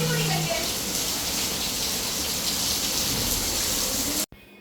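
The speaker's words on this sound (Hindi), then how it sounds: "कितनी तेज़ बारिश हो रही है" Heavy rain pours down in a dense, loud, continuous hiss and wash of water in a hot city in Pakistan, cutting off abruptly at the end.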